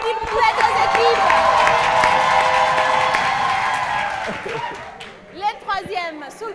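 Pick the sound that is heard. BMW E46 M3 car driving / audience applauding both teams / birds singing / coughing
audience applauding both teams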